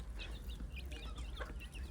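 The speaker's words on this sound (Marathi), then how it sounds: "सगळ्या कोंबड्या मला किती जवळ आहेत" A flock of chickens clucking nearby while feeding on flour scattered for them in a fenced yard, short overlapping clucks and chirps of chicks over a low background rumble.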